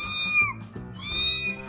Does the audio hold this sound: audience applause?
no